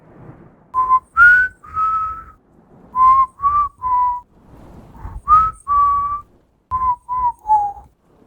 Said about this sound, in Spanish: Así que me senté y comencé a silbar.